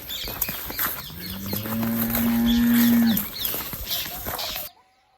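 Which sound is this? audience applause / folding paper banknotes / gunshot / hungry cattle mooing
hungry cattle mooing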